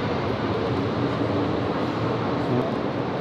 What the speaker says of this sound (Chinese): 这上面走的是轻轨